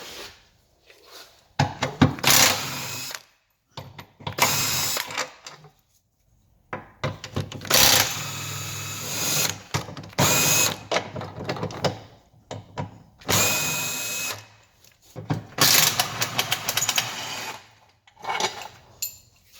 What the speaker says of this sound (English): just drop the 4 bolts out of the subframe. There's two 15mm on each side.